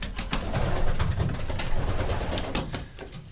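Young racing pigeons in a pigeon racing loft coo and flutter close by, with soft low cooing and scattered wing and scuffling sounds at a steady, moderate level, without talk.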